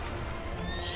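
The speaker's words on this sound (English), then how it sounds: "Now we can take our donkey again." Donkey braying in the World of NyekoCraft video game, a continuous loud whinnying call that fills the whole brief moment, with a rising tonal squeal near the end and no talking.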